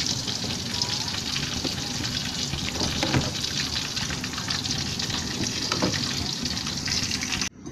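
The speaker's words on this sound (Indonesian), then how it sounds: "Nah ini sudah mendidih, sudah saya matikan ya" Bakso broth at a rolling boil in a pot, giving a steady, close bubbling and sizzling hiss that runs unbroken until it cuts off at the very end.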